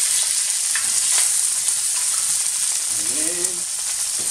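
Garlic and bay leaf frying in hot oil give a steady, loud sizzle with faint stirring scrapes, and a voice speaks briefly over it.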